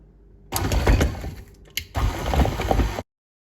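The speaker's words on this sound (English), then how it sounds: "all you have to do is close the mixer and just mix away" An electric stand mixer kneads bread dough with boiled, mashed sweet potato for sesame seed dinner rolls, a loud churning whir running steadily for about two and a half seconds with a brief dip midway, then stopping abruptly.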